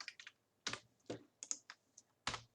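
Someone types on a computer keyboard, a handful of sharp, close key clicks in an uneven rhythm with short gaps between them, quiet and without speech.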